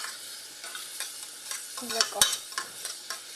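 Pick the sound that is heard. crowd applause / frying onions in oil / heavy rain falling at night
frying onions in oil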